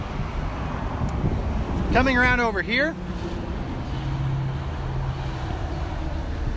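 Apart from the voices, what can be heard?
road traffic noise from the I-40 interstate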